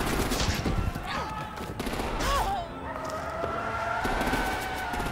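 Gunfire from the Batman Telltale Series video game sounds as scattered shots beneath continuous game ambience, with engine-like drones and a rising siren-like tone, fairly muffled and steady throughout.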